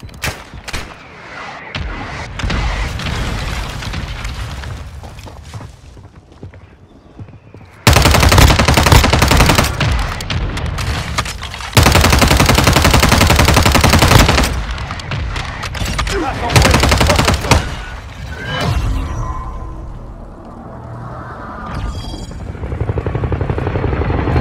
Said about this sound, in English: Copy. Mortar strike inbound now.